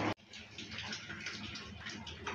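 Water pours and trickles as boiled cabbage leaves drain after coming off the gas stove. The splashing is faint, constant and close, and follows a sharp knock at the very start.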